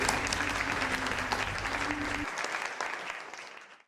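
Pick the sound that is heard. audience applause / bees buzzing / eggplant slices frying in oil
audience applause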